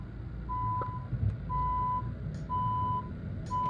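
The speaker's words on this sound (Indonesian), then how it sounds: "kalau pulse bunyinya seperti ini." Pulsed test tone from an Audixion AX-300 audiometer: a steady pure beep switched on and off in regular half-second pulses, moderately loud over low background rumble.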